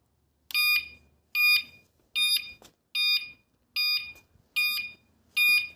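Seven short electronic beeps from the sound signal of a Corso Fortex 500W 48V electric bike repeat at an even pace, shrill and close, each a bright tonal burst separated by brief silences.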